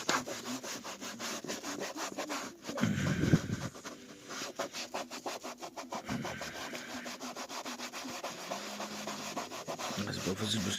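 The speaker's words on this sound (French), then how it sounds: "Frotte, frotte, frotte, mon copain, frotte." Hand sanding on a camper van part produces a loud, rapid back-and-forth rasp that keeps a steady rhythm close up, with a short pause and a thump partway through and a voice chanting faintly over the strokes.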